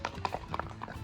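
Horse hooves clip-clop at a campsite, a quick run of sharp, distinct knocks in an uneven walking rhythm, close by and fairly quiet, with no talking.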